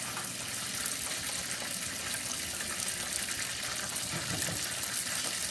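Battered fish fries in hot oil with a constant, dense sizzle and crackle, steady and close throughout with no voices.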